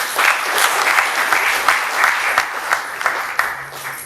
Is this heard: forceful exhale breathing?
no